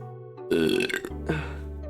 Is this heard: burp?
yes